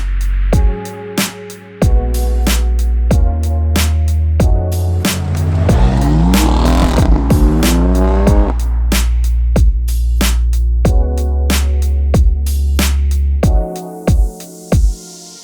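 A powerful Mercedes-AMG A45 engine revs hard and shifts repeatedly, with sharp pops and crackles between gears, loud and close throughout.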